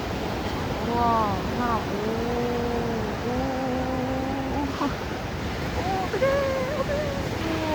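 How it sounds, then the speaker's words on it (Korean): Ocean waves wash steadily onto a Bali beach as a broad, continuous surf roar that sits beneath excited voices and exclamations throughout. "확실히 짱구보다는 파도가 낮은 것 같긴 해요."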